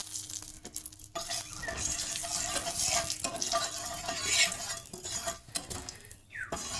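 Frying in oil in a pan on a gas stove for a Bengali rui fish tok, a continuous close sizzle with stirring scrapes and light utensil clinks, no talking.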